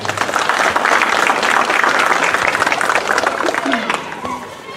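Audience at a school parents' event at Colegio San Rafael Arnáiz breaks into sustained applause, a dense wash of clapping from a large crowd that stays steady before tapering off slightly at the end.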